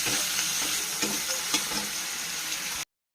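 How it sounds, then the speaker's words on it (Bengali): Onions and raw tomatoes frying in a pan for a Bengali amudi fish jhal, stirred with soft scraping over a steady close sizzle, alone and without talk, cutting off abruptly. "এবার ভালো করে নেড়ে নেবো।"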